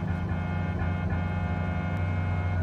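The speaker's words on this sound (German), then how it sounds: "Er hupt." A truck horn honks in the video game Cyberpunk 2077, a sustained tonal blare over a steady engine hum, fairly faint and alone without talk.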